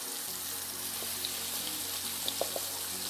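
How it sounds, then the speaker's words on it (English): Eight food slices frying in a small pan, giving a steady, even sizzle with a few faint pops and clinks over the crackle. "Smells good and sizzles well."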